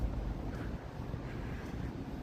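Steady gusting wind buffets the microphone while walking outdoors near a pond with a city skyline on a January day, a continuous low rumbling roar with no talk.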